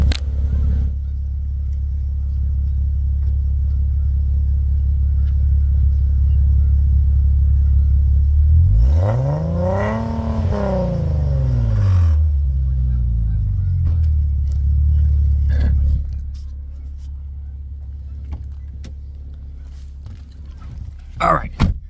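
An Infiniti G37 with test pipes gives a deep, steady exhaust rumble that swells into a loud rev rising and falling around the middle, then settles back to a low idle.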